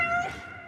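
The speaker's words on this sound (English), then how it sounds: "Sounds like an old lady has a cat stuck in a tree." A cat gives one short, clear meow that slides downward and fades out, heard up close and alone.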